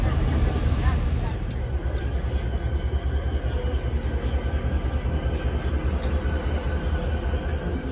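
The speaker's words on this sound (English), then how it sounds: "This is the 1964 World's Fair train." The 1964 World's Fair train rumbles past close by at the Railroad Museum of Long Island in Riverhead, wheels clattering in a steady rhythm, with a few brief high metallic squeals above the loud low roar.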